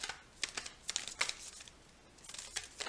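Oracle cards being shuffled by hand, a series of crisp papery riffles and crinkles in short bursts, close and fairly quiet, with a pause in the middle before another flurry.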